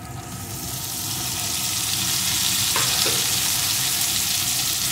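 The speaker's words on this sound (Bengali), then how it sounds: "এখন তেলটা এইভাবে সমস্ত কিছুর সাথে নাড়িয়ে নাড়িয়ে রান্না করে নেব।" Marinated fish oil frying with masala in a pan while being stirred, a loud, dense sizzle that swells in the first second and then holds steady and close.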